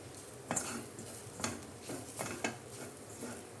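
Milk powder fried in a pan on low flame: faint spatula scrapes and knocks against the pan, spaced about once a second, with a soft sizzle underneath and no talk.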